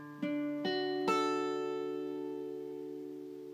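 Guitar arpeggio from a song, picking the open 4th string, then the 3rd, 2nd and 1st strings: three or four quiet plucked notes in a quick rising sequence, ringing together and slowly decaying, with no talking.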